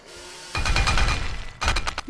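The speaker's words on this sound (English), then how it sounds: "Added bullet material name to override bullet sound for chainsaw and auger." A chainsaw striking a target in the video game 7 Days to Die, two quick bursts of harsh grinding, rattling hits separated by a short pause, close and fairly loud.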